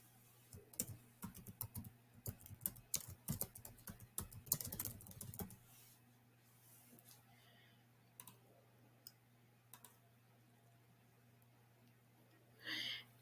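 Fast, close clicking on a computer keyboard as a business name is typed, a dense run of keystrokes over the first half, then a few scattered taps and one final click over a low hum.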